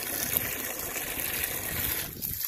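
Water is poured for chickens during a morning animal-care routine, a steady trickling, gushing flow that runs continuously and fairly close, thinning out briefly near the end.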